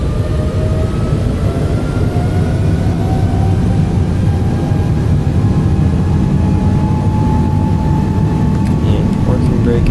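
Boeing 777 engines in Microsoft Flight Simulator 2020 rise to takeoff thrust, a loud steady roar with a slowly climbing whine, continuous for the full stretch.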